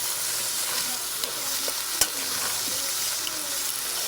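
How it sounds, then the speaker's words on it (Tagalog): Crab pieces are stirred in a hot cooking pan for ginataang kasag, a steady close sizzle and hiss with a few light scraping taps of the utensil, no voices. "Haluin natin ang kasag para kumalat."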